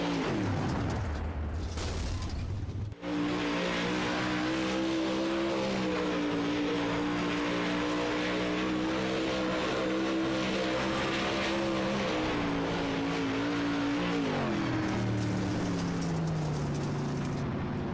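Winged sprint cars roar around a dirt track, a loud sustained engine drone that swells as cars pass close, with pitch rising and falling through the laps and no talk over it.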